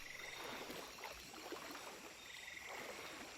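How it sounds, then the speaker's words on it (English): Peruvian jungle ambience in the video game Shadow of the Tomb Raider, with frogs croaking in a dense, continuous chorus over faint insect buzz and a soft watery background. "The sound of the jungle of Peru is greatly done."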